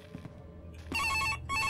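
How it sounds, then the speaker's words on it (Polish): A telephone rings in a horror game, Five Nights at Freddy's-style animatronics title: a loud, close electronic ring bursts after a few faint thumps, then repeats after a brief gap. "Telefon."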